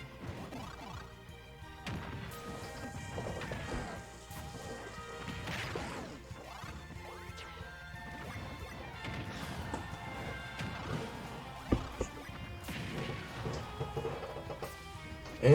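Pac-Man and Bowser trading blows in a Super Smash Bros. match, a busy run of rapid smacks, crashes and whooshes over game music, with a sharp loud hit at the very end.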